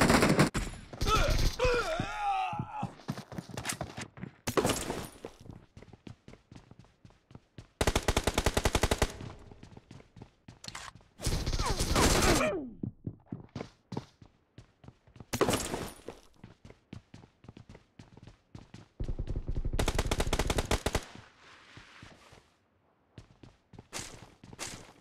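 Bursts of automatic gunfire in the BGMI mobile battle game, with several long sustained volleys and scattered single shots, loud and close, separated by brief pauses with faint footsteps.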